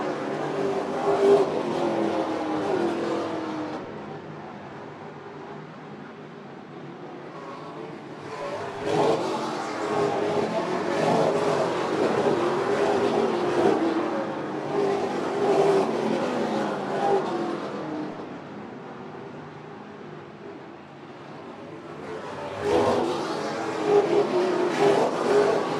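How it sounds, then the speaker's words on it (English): Super late model race cars in the Easy-Kleen Super Late Model Series at Oyster Speedway, racing under the lights on the high banks: a steady, loud engine roar that swells and fades in waves as the field laps past, no voices. "Some very late night racing here under the lights on the high banks of Oyster Speedway to wrap up tonight's big event."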